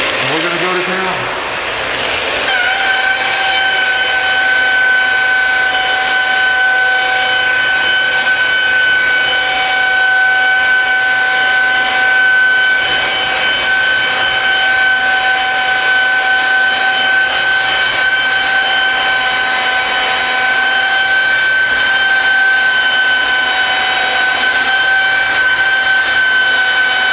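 A polisher spins at about 2,500 RPM on stainless steel, giving a loud, steady, high motor whine that holds evenly for nearly half a minute after a short spin-up.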